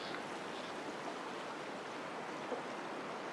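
In a Disney Dreamlight Valley shoreline scene, a soft, steady wash of lapping water runs faint and unbroken throughout, with no talk over it.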